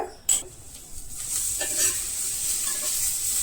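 Curry being stirred in a pan, with a sharp clatter at first, then scattered scrapes over a steady hissing sizzle that stays close.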